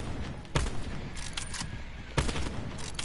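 Gunfire from a first-person shooter video game, with two sharp, loud shots standing out over a busy background of smaller bursts and game noise, no speech.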